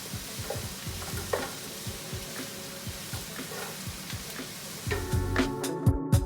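Onions and green peppers fry in oil with a steady sizzle, broken by repeated scraping stirs and clatter, growing louder toward the end.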